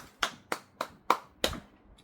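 Five sharp, evenly spaced hand claps ring out in a short, steady rhythm at a lively talk show, fairly close, then stop, with no voices.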